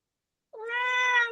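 A single cat's meow starts after a brief silence, a clear, sustained, harmonic-rich cry that holds steady and close for nearly a second before tapering at the end.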